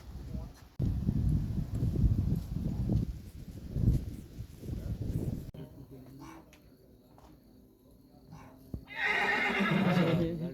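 A horse neighs and whinnies nearby, with a loud drawn-out call at the end following lower snorting sounds, while birds coo in the background.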